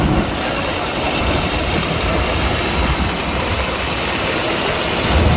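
A loud, steady mechanical roar of a tractor grinding and shredding wood, continuous and close, with no voices.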